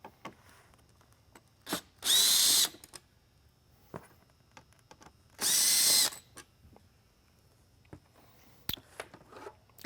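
A power drill backs stainless steel screws out of the top of a Whelen Responder Linear Super-LED Mini Lightbar. Two short, loud, close whirring bursts are separated by quiet clicks and handling noises.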